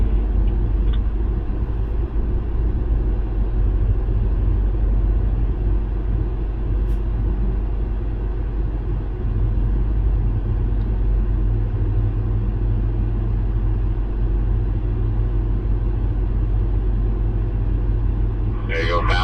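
A BMW M5 driven hard around North Palm Circuit, its engine a steady, close, continuous low rumbling drone with little variation throughout.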